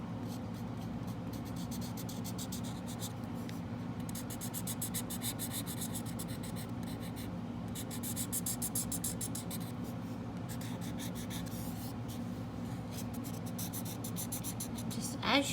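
A pencil draws strobes of light on paper in a circular motion, making a steady close scratching and rubbing that goes on throughout, with brief rhythmic stroke bursts.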